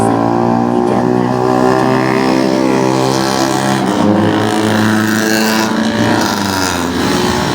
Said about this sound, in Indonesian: Yang pertama, transportasi dan lalu lintas kendaraan bermotor.